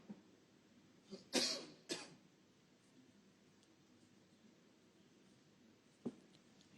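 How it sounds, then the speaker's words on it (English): A snooker player coughs at the table during a tournament final, a sharp close pair of coughs followed a few seconds later by a single quieter one, over a hushed arena background. "He may be feeling a bit under the weather with that cough"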